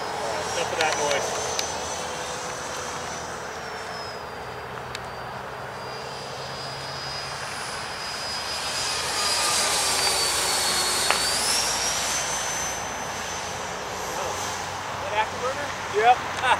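Freewing Mirage 2000 RC model jet in flight, a continuous high whining turbine rush that rises and shifts in pitch as it passes, fairly distant and steady, with faint voices at moments.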